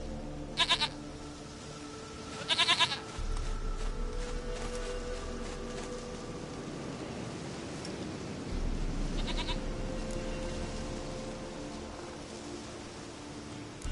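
A goat in the video game Witcher 3 bleats three times, two quick close calls followed by a third later, over a steady ambient game background.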